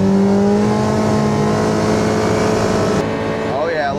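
Enclosed cab UTV engine running while driving down the road, a steady droning hum heard from inside the cab, with pitch shifting slightly as speed changes and rising near the end, loud and continuous.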